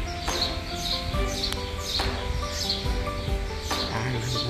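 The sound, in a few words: birds chirping at a palace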